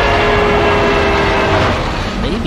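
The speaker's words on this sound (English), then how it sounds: "Then run this train right up that river." A train in Oddworld Soulstorm rumbles loudly and steadily with a droning horn-like tone sustained over the rolling noise.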